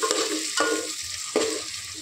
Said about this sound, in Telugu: ముందుగా నూనెలో ఆనియన్స్ ఇవన్నీ పేస్ట్ లాగా చేసుకోవడానికి మామూలుగా మగ్గేదాకా వేయించుకోవాలి